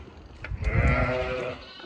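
A sheep bleats once in a lambing pen on a farm, a drawn-out, wavering call close by over a low background of shuffling and rustling.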